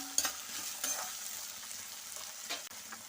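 Sliced onions frying in a pan, a steady soft sizzle with a few stirring scrapes and clinks, fairly quiet and close, with no talking.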